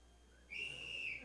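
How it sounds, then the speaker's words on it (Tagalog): A single sustained whistle blast, high and steady, starting abruptly and holding for most of a second over a quiet, faintly noisy background with no talk. "Silbato nga, silbato."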